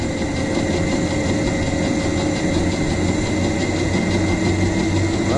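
A quad bike converted to an electric motor runs with a steady, close hum and mechanical whine as it slowly gathers speed, the tone staying fairly constant throughout with no talk.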